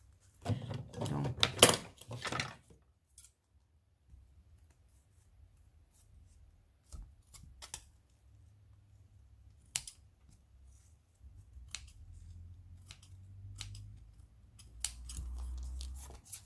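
Close scissors snipping through paper during a mixed-media dreamcatcher craft project, a quick burst of several cuts at the start followed by sparse isolated snips and faint handling rustle, no talking.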